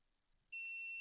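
A multimeter in continuity mode gives a steady, piercing high-pitched beep while its probes test a capacitor on an electronic item being repaired. The beep starts abruptly after a quiet moment and holds continuously, loud and close.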